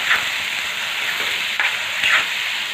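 Red chili powder and spices sizzle in hot oil with a steady crackling hiss, punctuated by a few scraping stirs of a spoon, close up.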